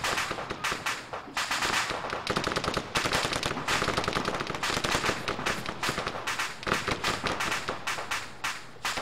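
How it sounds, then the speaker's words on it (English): Rapid, sustained gunfire crackles through ARMA 3 video game combat, with dense bursts of automatic weapon fire and overlapping shots at close to medium range, loud and continuous with no talking. "Got some firing to the left."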